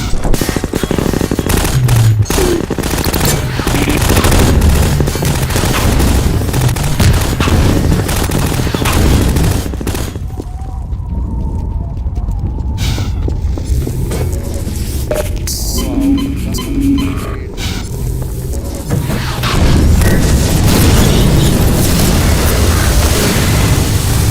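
Rapid machine-gun bursts and heavy booms of explosions from Half-Life 2: Episode One combat, dense and loud for most of the stretch, easing briefly in the middle before the firing swells again.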